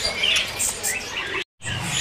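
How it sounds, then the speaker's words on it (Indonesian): Orange-headed thrushes (anis merah) at a busy bird market give bright, dense chirps and whistles that run continuously and fairly close, broken by a brief cut to silence before the chirping resumes. "burung anis merah ya"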